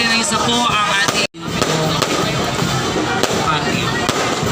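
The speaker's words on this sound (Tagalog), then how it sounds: "maraming salamat sa ating pong nagbigay na ating fireworks, Ginoong Caleb Atienza" Fireworks crackle and pop continuously at a May town fiesta for Santa Elena in Hagonoy, a dense, loud stream of bursts with one brief drop-out, while a voice speaks over a loudspeaker.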